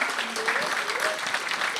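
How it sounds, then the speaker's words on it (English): Brief applause from a modest audience at a money talk event, a soft, steady patter of clapping with some faint vocal tones over it. "Give them a round of applause."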